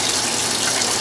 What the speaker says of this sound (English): Washing my hands in a bucket.